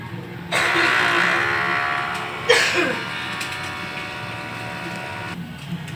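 A large format printer runs a head cleaning cycle, a steady close mechanical whir and hum lasting about five seconds, with a brief clunk partway through before the motor stops.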